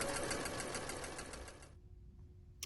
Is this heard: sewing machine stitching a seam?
yes